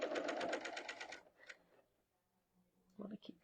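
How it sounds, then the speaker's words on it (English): A 4-thread overlock serger sewing a neckband onto knit fabric runs in a fast, even stitching burst for about a second, then stops; a voice speaks briefly afterward. "put a neckband on with a serger on a knit"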